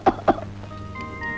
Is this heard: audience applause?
no